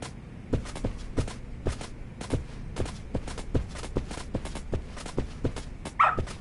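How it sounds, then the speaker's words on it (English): A dog in the video game Lost Judgment barks in a steady run of short, evenly spaced woofs, with a brief whimper near the end, all close and fairly loud. "Good dog. Very good dog."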